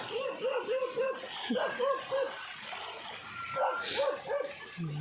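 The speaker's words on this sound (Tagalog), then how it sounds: "May aso." A small dog yaps in a quick run of high, sharp barks, pauses, then barks again in short bursts, fairly close over faint background noise.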